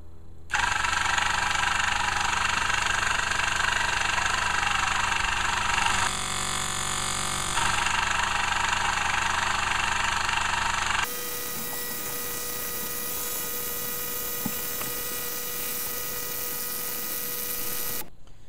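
Electric air-horn compressor with a built-in intake valve and air filter pumping air, a loud continuous mechanical drone and whine that shifts tone midway, then a steadier humming run.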